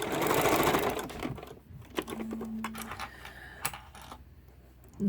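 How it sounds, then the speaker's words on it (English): Sewing machine stitching across the bottom of an embroidered Christmas doorstop fabric panel, a close, rapid mechanical whirr in short bursts with brief pauses between runs. "I'm going to come along and stitch across the bottom there as well."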